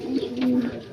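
Red American fancy pigeon, likely a male, cooing in a small cage, a steady low throaty coo rising and falling through the second, close and clear with no talk.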